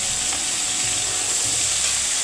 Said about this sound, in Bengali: তেলাপিয়া মাছ ভাজা হচ্ছে